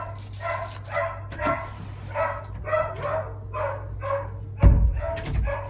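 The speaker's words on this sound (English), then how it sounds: "The dogs are going right off" Dogs bark repeatedly indoors in a quick, uneven series of sharp yaps and yips, fairly loud and close, with a low steady hum beneath and a sudden thump near the end.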